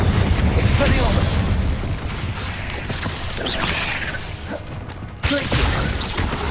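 A Confringo blasting spell explodes in the Hogwarts Legacy video game, booming blasts and crashes mixed into dense, continuous loud battle noise and game music.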